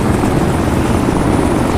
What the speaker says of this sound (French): Les mecs, essayez de monter en hélicoptère.